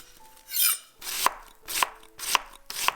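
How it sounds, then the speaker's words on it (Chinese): A knife slices onion and shallots on a cutting board in a slow, even rhythm of four crisp cuts with soft rustling between them, close and clear with no talking. "洋葱切丝， 红葱切薄片"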